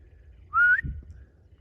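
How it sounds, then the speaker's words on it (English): A person's single short, bright whistle to call a dog, rising in pitch, sounding once against a quiet off-grid RV campsite background. "It's even when I whistle and call him."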